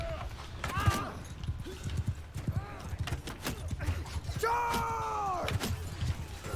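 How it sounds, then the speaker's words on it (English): Rapid clip-clopping hoofbeats from the video game Bannerlord, mixed with clashing battle noise and a brief horse whinny partway through. "There he is on a horse."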